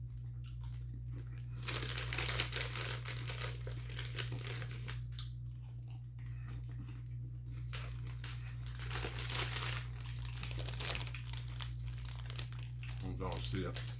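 A Garrett popcorn bag of cheese and caramel mix crinkles and rustles close up, in repeated bursts through the clip, with a person talking over much of it.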